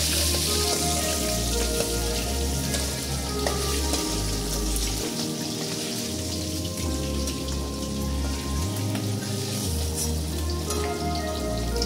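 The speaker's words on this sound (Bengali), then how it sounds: "ভালো করে মাথাটা লাল লাল করে ভেজে নেব" Fish heads fry in oil that sizzles and crackles steadily in a pan, a dense bubbling hiss that continues evenly throughout, with no voices.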